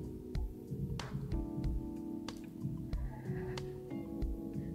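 Muffled music thumps faintly in the background, with a low throbbing bass and sustained tones shifting every second or so, as if heard through a wall.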